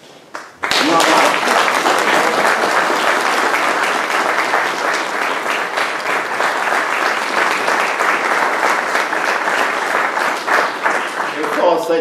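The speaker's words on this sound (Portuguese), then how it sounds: "Eu só aceito as palmas" An audience at a book launch bursts into applause that starts abruptly and holds as a dense, loud, sustained wash of clapping, with a voice audible near the start.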